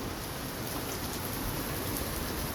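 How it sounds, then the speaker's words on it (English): Heavy rain falls steadily in a thunderstorm from a supercell in Ohio, a dense, even hiss and patter that stays loud and unbroken throughout with no voices. "it's gonna be a lot of lightning and a lot of rain."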